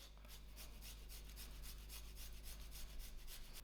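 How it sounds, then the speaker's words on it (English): Garlic grated into mayonnaise, a quick run of rhythmic rasping scrapes repeating steadily, close but quiet, with no voices. "I am going to grate my garlic to my mayonnaise."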